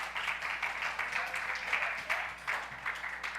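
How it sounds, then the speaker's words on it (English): A church audience applauds a worship team at a White Sunday service, steady dense clapping from many hands heard at a distance, continuous and moderately quiet throughout. "Can we give them a round of applause just for the work that they do?"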